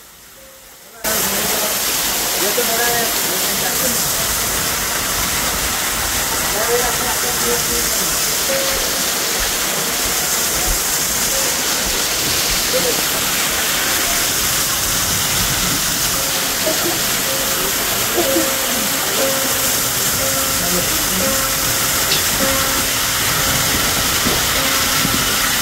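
Continuous broadband rushing roar of a waterfall, steady and loud throughout after a brief quiet start, with faint indistinct voices underneath.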